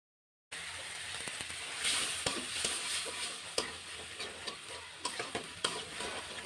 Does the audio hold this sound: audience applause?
no